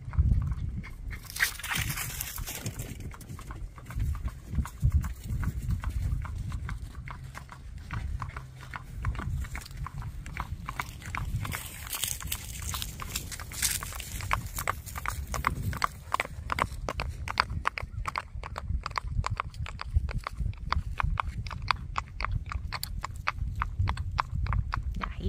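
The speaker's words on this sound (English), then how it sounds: "Alright, we're going to get him gating coming up the other way." A Tennessee Walking Horse gelding gaits steadily, its hoofbeats making a continuous, even clip-clop rhythm that stays close and fairly loud throughout.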